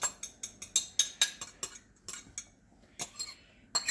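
A ladle knocks and scrapes against a cooking pot while stirring cornstarch slurry into cranberry sauce, a quick run of sharp metallic clinks in an uneven rhythm, then a pause and a few more.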